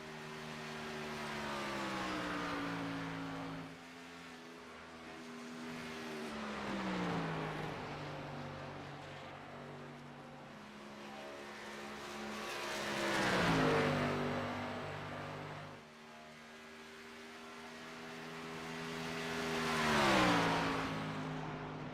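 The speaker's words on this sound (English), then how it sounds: "We got a Ted Lee out there putting down his qualifying lap in the number 23 car" Race car engines on track during qualifying in a racing video game, one car on a flying lap, heard as a steady engine drone rising and falling through repeated upshifts, with no talk.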